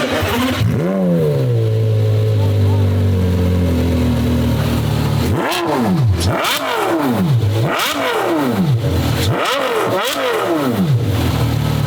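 A Lamborghini SVJ engine revs repeatedly while stationary, rising to sharp peaks and falling back, four or five blips in a row, very close.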